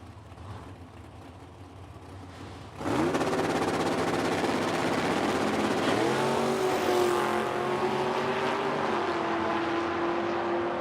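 Drag racing cars, a Capri and a Mustang, launch with a sudden loud engine roar that keeps blaring steadily, pitch rising through gears, close and continuous with no talk.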